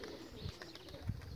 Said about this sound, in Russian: О, это голубка вообще.